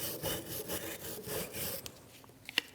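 A wire brush scrubs the rear brake bracket of a Mitsubishi Outlander: several quick, close, rasping strokes in a row, then a few faint taps and scrapes.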